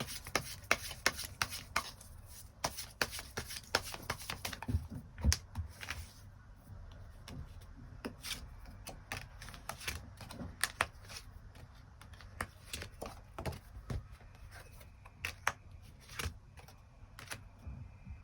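Tarot cards being drawn and shuffled from a deck, giving a quiet, steady run of soft card slides, rubs and light taps with no one speaking.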